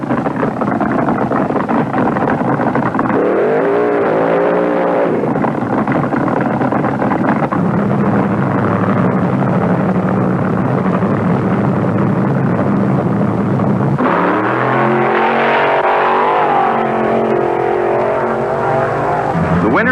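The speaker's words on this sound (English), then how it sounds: "2 more cars and 2 more burnouts brought the Michigan boy Bob Farmer up to the line" Drag racing cars roar loudly at the start line of the 1973 IHRA Northern Nationals, a continuous heavy engine blare that swells and revs, with an announcer faintly heard beneath the noise.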